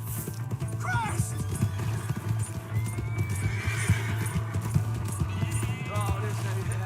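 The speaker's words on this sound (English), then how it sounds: "Hey, that's my horse." A horse in Red Dead Redemption 2 clip-clops along with steady hoofbeats and gives several whinnies, set against a low constant hum with game ambience underneath.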